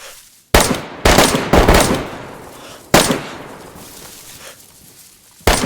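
Gunfire in the survival game DayZ: a handful of loud, sharp shots spaced unevenly, each cracking out and decaying with a reverberant tail, no talking over them.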